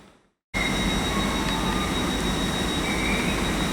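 A Great Western Railway service to Bristol Temple Meads departs Reading station, its loud steady rumble starting abruptly and holding close and even, with faint tonal whines riding above the broadband roar.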